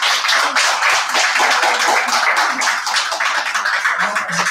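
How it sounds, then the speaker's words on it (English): A church congregation applauds for several seconds in a dense, continuous burst of clapping, with faint voices murmuring underneath. "give a little mighty round of applause"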